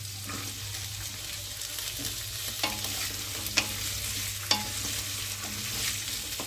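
Vegetables (cauliflower, potato, beans and carrot) stirred and frying in a pan for veg biryani, a steady sizzle with a few sharp scraping clinks of the spoon, no talk.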